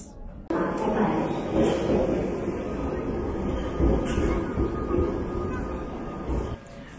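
A London Underground train rumbles steadily at close range near Hammersmith station, with a faint high whine running through and people talking over the noise.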